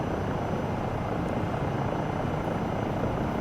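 A helicopter in Microsoft Flight Simulator 2024 hums and thrums with a constant, loud, dense rotor and engine drone, steady throughout with no voices.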